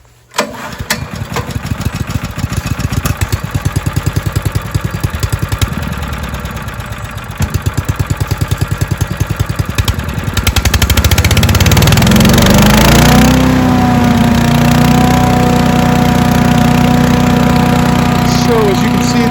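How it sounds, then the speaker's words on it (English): A Harbor Freight Predator wood chipper's small gas engine is cranked with a rapid rattling pull, sputters and dips briefly, then catches and settles into a loud, steady close-up running drone. "I'm going to go ahead and give this a crank, and we'll see how it starts up."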